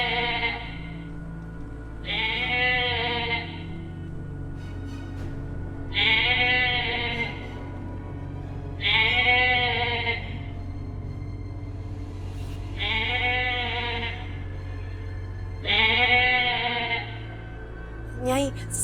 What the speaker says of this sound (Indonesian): Nyai, itu sepertinya kambing jadi-jadian.